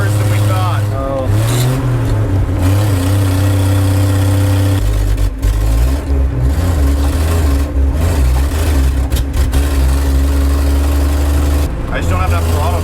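A 1960 Ford F-350 truck engine running loud and close while driving, a steady low drone rising and falling through a shift, with people talking over it inside the cab.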